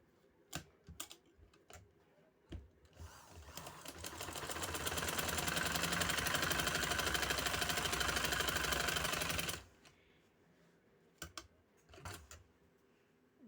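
A sewing machine stitches a fabric strip in one continuous rapid mechanical run of about five seconds, close and fairly loud. Scattered clicks and handling knocks of the cloth and machine come before and after, with no talk.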